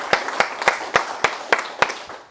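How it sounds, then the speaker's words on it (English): Slow, evenly spaced hand claps, about eight in a row, sharp and close, like a single person or small group clapping. "Let's give a round of applause."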